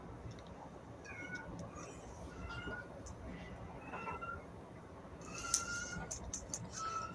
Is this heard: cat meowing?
yes